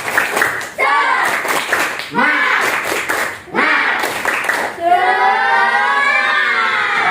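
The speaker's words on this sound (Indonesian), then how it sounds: "Tepuk semangat" Classroom children perform a rhythmic spirit clap led by their teacher, with bursts of patterned group clapping and shouted chanting between them, ending in a sustained cheer of young voices close by.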